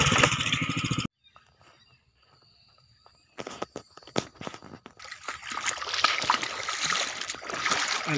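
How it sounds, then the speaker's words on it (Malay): A small engine on a homemade wooden boat in floodwater roars loudly at first, then cuts out; after a quiet pause, close splashing and sloshing water follow in irregular bursts. "Kami dah try menggunakan enjin kecil."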